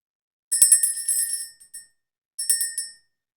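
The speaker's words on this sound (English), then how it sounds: "We're going to go ahead and ring the bell, clear the energy" Small bell rung to clear the energy, two separate bursts of bright metallic ringing with quick repeated strikes, close and clear, each fading out, with a pause between them.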